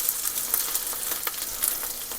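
A Monte Cristo sandwich sizzles and crackles in a hot pan as it is flipped, a steady close frying hiss with small pops and no voices.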